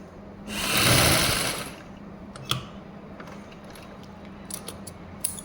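A sewing machine stitches a blouse sleeve in one loud whirring burst of about a second, followed by light mechanical clicks and handling taps.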